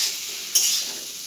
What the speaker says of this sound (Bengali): এবার ভালোভাবে সবকটা মশলা লবণ সবজি কষিয়ে নেব।